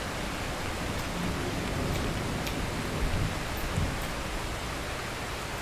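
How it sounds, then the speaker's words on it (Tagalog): Heavy rain falling at night, a dense, even hiss of downpour, loud and steady with a few faint patters on top. "Yung gabi po malakas ang ulan"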